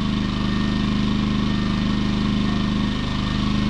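A Champion 2000 watt stackable inverter generator runs steadily nearby, a loud, even engine drone with a fast pulsing low throb and no talking.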